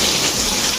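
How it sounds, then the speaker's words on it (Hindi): Heavy rain pours down in a dense, steady hiss, close and loud, with no voices over the continuous downpour. "लेकिन बारिश इतना तेज है"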